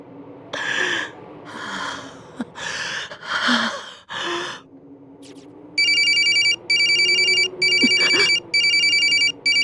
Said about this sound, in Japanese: 着信しているのに写メ画像のままだ。 着信表示も出ていない。 音だけが鳴っている。